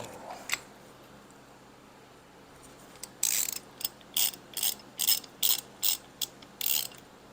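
Ratchet tightening the damper pulley bolt on a Ford 302 small-block engine, a run of about ten crisp, close clicking pulls after a brief quiet pause.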